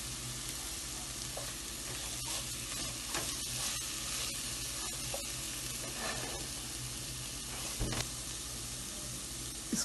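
Sesame seeds roasting in a pan for gujiya, a steady dry sizzle and crackle with occasional stirring scrapes, close and continuous, no voices.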